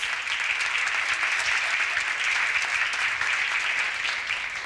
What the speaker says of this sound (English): Can we all give him another round of applause, please?